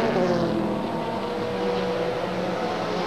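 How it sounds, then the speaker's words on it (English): A Zytek race car with a 3.4-liter V8 drives down pit lane at the 2005 American Le Mans race at Mid-Ohio, its engine a loud, steady, close drone. "Chilton's Zytek car is coming down pit lane right now as Biella continues onward."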